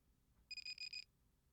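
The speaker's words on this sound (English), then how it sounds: "It was the sound of my ringtone that snapped me out of it." A phone ringtone alarm gives a brief burst of rapid, high electronic beeps, about half a second long and fairly quiet, with nothing else around it.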